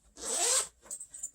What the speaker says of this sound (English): It has a zipper